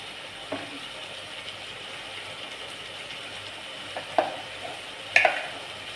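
Tomato, coriander, garlic and ginger masala with curry leaves and coriander powder frying in oil in a pan, giving a steady soft sizzle with a few scrapes of stirring.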